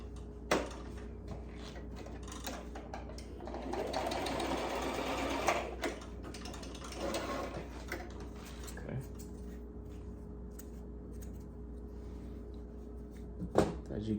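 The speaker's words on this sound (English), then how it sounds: "Then I'm gonna sew a line straight across." A sewing machine runs a straight line of stitching across necktie fabric, a steady whirring hum that rises for several seconds mid-stretch amid light handling clatter.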